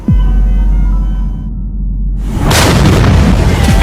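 A deep, heavy bomb explosion boom with a rumbling low-end, followed by a sharp burst of noise and crackling debris, loud and close.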